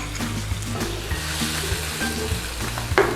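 Sauce poured into a hot wok of stir-fried pork liver and peppers hits with a loud, steady sizzle and bubbling hiss, with a few clinks of utensils near the end.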